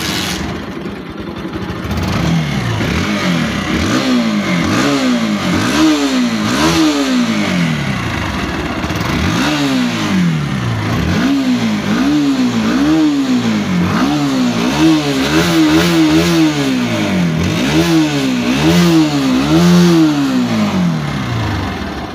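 A Bajaj Pulsar NS motorcycle with dual-channel ABS is started and revved repeatedly, loud and close, each throttle blip climbing and falling back to idle in a steady rhythm.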